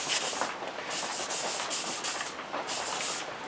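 A pad wetted with denatured alcohol rubs back and forth over a wooden platter's colored rim, close, soft rhythmic swishing strokes repeating steadily and alone.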